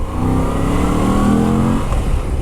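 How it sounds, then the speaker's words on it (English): A loud Moto Guzzi V85TT motorcycle engine revs up close, its intake roar rising in pitch before easing off. "I really like the intake noise."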